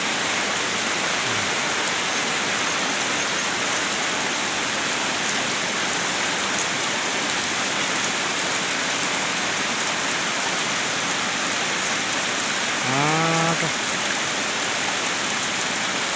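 Heavy rain pours down steadily and loudly during flooding deep enough to swamp vehicles, a dense continuous hiss without a break, with a brief rising tone near the end and no voices.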